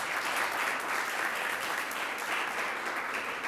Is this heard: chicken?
no